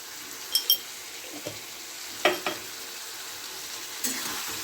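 Turmeric and salt spice paste frying in a pan over low heat as part of a tomato chutney, a soft steady sizzle with a few brief clinks and scrapes of a spoon.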